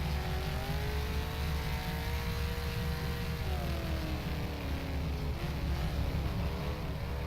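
NZ Superstock race car in the rFactor sim rolling out at Huntly, its engine droning loud and steady with gentle shifts in pitch as it changes gear, low rumble throughout and no one speaking.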